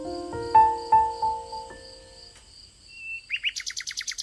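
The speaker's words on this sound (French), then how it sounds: "Le bel oiseau commençait à chanter." A golden bird in an animated fairy tale sings, sustained whistled tones giving way to a run of quick, bright chirps, alone over soft ambient backdrop with no talk.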